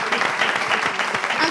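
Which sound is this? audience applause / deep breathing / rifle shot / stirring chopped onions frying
audience applause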